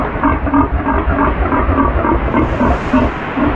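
Pigs on a farm grunt and snort continuously at close range during a typhoon, a busy chorus of low rhythmic oinks with steady noise in the background.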